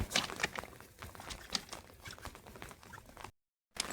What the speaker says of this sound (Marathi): पाऊस पण काय बारीक बारीक लागत असा